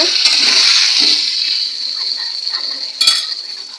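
Potatoes with salt and turmeric fry in hot oil in a wok (kadai), a loud, close, steady sizzle that eases slightly, with a brief clatter near the end and no talk.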